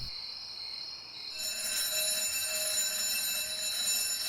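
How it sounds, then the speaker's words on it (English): A railway alarm bell, rung when an accident is reported, starts partway through and keeps going continuously, a bright metallic clang filling the space with no voices. "That's the alarm bell. It rings when an accident is reported."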